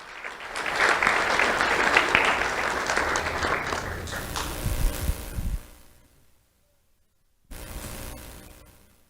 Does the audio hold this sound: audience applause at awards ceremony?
yes